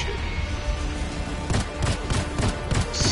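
Video game gunfire from a PS4 session, a short cluster of rapid shots and thuds in the second half over a constant noisy backdrop, fairly loud.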